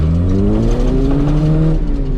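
Toyota KE70 Corolla fitted with a welded differential, its engine revving hard and steadily through a driving manoeuvre, loud and close with a continuous droning pitch that rises and falls slightly.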